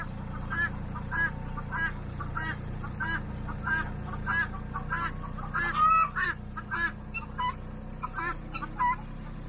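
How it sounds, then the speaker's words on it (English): A flock of chickens and other poultry calling continuously, repeated honking, gobbling squawks over a steady low hum, fairly close. "Look at how happy these chickens are."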